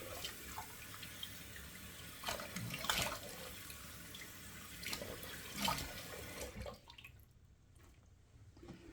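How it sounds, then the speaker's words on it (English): Cold water runs steadily from a tap, quiet and close, with a few splashy surges, then the flow cuts off near the end. "So that's running nice and cold out of the tap."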